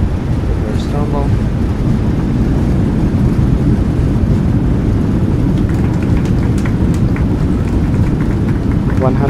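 Airliner engines roaring on reverse thrust just after landing, a loud, steady broadband rumble that holds throughout without letting up.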